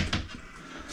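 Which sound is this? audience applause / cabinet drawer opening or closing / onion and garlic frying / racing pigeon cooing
cabinet drawer opening or closing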